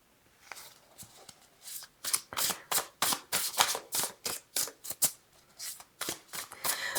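Tarot cards are shuffled by hand in a rapid series of crisp, riffling bursts, close and clear, roughly twenty flicks in a loose irregular rhythm with no voices.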